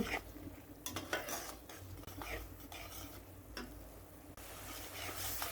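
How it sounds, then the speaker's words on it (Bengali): Spices and chili powder sautéing in oil for a puti fish and okra dish, a low sizzle under repeated scraping and clinking stirs of a metal spoon against the pan. "আগে তেলের ভেতরে আমি কষিয়ে নেব একটু"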